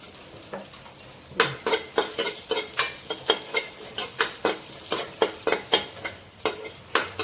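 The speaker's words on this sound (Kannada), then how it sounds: "ಚೆನ್ನಾಗಿ ಫ್ರೈ ಮಾಡಬೇಕು ಕೆಂಪಾಗಬೇಕು" Garlic frying in ghee for palak dal sizzles steadily in a pan while a spoon scrapes and taps the pot in a brisk, regular rhythm, close and fairly loud, with no voices.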